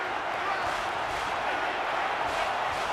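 A stadium crowd in the college football video game NCAA 14, at a Mississippi State at Florida matchup, roars as a steady, dense wash of noise with no breaks, moderately loud throughout.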